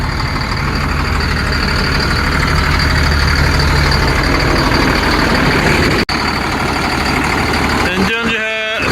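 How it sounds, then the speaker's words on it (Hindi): A straight truck engine idles steadily after starting, a loud continuous low rumble that holds evenly throughout, broken by a brief dropout and a short tonal sound at the end. "इंजन जो है स्मूथ रनिंग कर रहा है, कोई इशू नहीं है इसके अंदर।"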